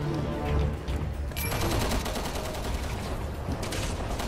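Rapid bursts of assault rifle fire crackle in quick succession, loud and sharp, with background sounds from the game Resident Evil 6 underneath.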